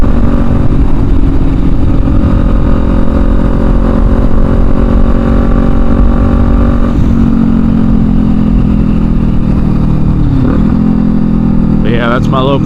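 A Kawasaki Ninja 400 with almost 22,000 miles, heard while riding, gives a loud, steady engine drone with shifting pitch. A rider speaks over it, and wind roars throughout.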